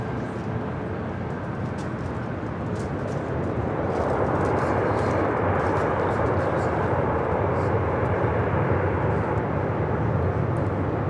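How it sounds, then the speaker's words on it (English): A Southwest Boeing 737 MAX 8 airliner arriving at LAX from Honolulu, a steady broad jet roar that swells and holds loud throughout, with voices talking faintly underneath. "This arrival is Southwest 2419 coming in from Honolulu on the MAX 8."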